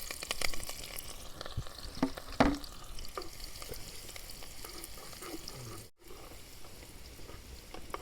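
Finely chopped onions and green chilies fry in hot oil for crab curry, a loud close sizzle with stirring scrapes and a sharp burst early on, continuing steadily apart from a brief break near the end.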